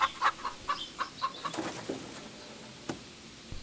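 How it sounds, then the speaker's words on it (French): Farm chickens cluck and chatter in a quick series of short calls, fairly close, over a quiet yard background with a faint thump near the end. "Les poulets n'aiment pas les étrangers."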